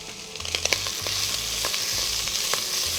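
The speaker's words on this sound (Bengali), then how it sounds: "আমি চিকেনটা একসাথে দিয়ে ভেজে ফেলবো একসাথে সবগুলা।" Chicken frying in mustard oil with chopped onion, ginger and garlic, a steady close sizzle with scattered clinks and scrapes of stirring, no talking.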